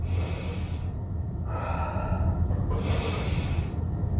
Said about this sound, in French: Et on prend 2 grandes respirations.